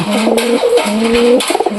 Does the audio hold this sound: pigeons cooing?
yes